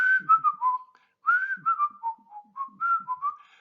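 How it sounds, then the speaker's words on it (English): A person whistles the Andy Griffith theme tune, a short melodic phrase repeated in three clear bursts with brief pauses, close and alone without talk. "I was trying to whistle. I think I was trying to do the Andy Griffith tune."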